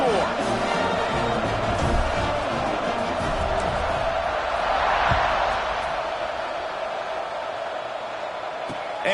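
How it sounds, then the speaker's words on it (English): Steady crowd roar fills a video game football stadium just before a kickoff after a score, broad and continuous with a slight swell midway, no distinct voices standing out. "this crowd is buzzing after that last score"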